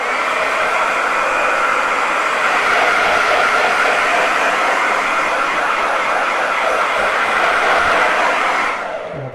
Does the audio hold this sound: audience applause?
no